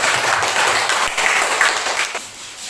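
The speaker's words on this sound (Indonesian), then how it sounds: "tepuk tangan untuk kelompok" A classroom group of students claps for a presenting group in a brief burst of applause, dense and fairly loud, tapering off toward the end.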